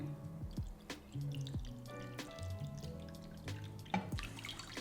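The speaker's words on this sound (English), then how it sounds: "So we're just gonna put some hot water in here." Hot water is poured and splashes into a container for proofing brioche, with faint dripping and ringing liquid sounds that come in uneven spurts and no voices.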